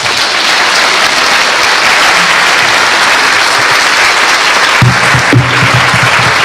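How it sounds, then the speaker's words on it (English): A business forum audience gives a sustained round of applause for chief guests, loud and dense clapping throughout, with a few louder claps and a brief murmur of voices near the end. "Let's give another round of applause to our chief guests."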